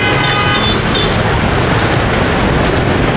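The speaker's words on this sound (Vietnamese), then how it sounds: "bây giờ mưa vào đây" A loud, unbroken downpour of heavy rain in Cà Mau, with a brief faint tonal whine early on and no talking over the steady roar.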